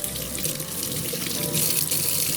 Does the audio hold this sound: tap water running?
yes